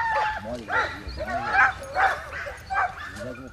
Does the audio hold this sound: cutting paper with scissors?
no